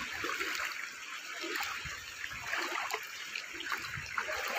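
Steady rushing and trickling floodwater current flows continuously at close range in Barangay Talomo, with faint splashes and no clear talk.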